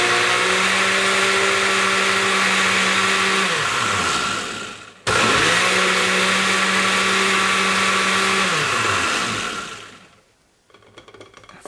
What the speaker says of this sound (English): Put your cover on, and you're just going to pulse it until it's completely liquefied.